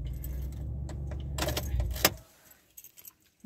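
House keys jangle close by in rapid metallic shakes, busiest in the middle before fading to near silence with a few faint clicks at the end, over a low background rumble.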